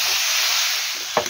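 Jackfruit sizzles steadily in hot oil in a pan as it is stir-fried for a Bengali curry, a continuous loud hiss with a brief clatter near the end.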